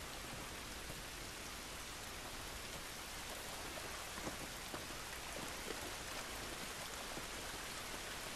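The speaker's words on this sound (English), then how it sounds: "This rain ain't gonna do us any good." Steady rain falls throughout a scene in the video game The Last of Us, a dense, even hiss of drops pattering on surfaces with no break and no voices.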